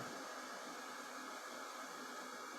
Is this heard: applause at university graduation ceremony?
no